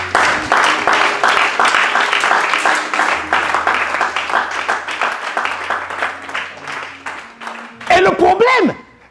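A church congregation applauding and cheering during a sermon, steady rhythmic clapping that fills the space, with a voice rising over it near the end.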